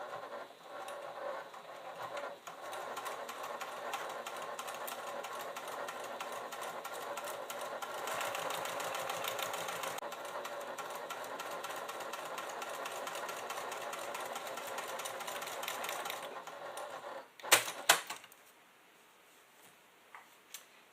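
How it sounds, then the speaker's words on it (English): A sewing machine runs steadily, stitching a clutch bag for about seventeen seconds, then stops with a couple of sharp clicks and near silence. "Put my needle in, and then we'll go ahead and stitch."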